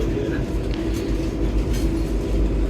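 An MRT train running in Kuala Lumpur, a steady loud rumble of wheels and motor with faint rail clatter, continuous throughout and with no voices over it.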